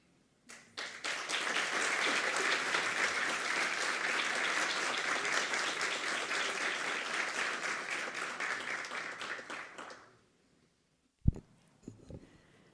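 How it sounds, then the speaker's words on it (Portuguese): Sustained applause fills an indoor ceremony at the São Paulo State Court of Accounts, a dense, steady roar of many hands clapping for about ten seconds before cutting off, followed by a few isolated knocks and handling sounds. "novamente eu reforço nossos aplausos"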